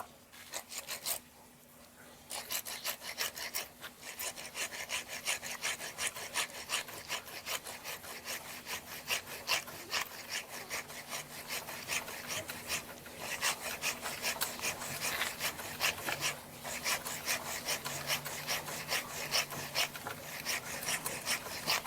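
A hand saw cuts through the dried wood of a kumquat bonsai trunk in steady, rapid back-and-forth rasping strokes that run almost without pause. The sawing is fairly quiet and close, with no talking.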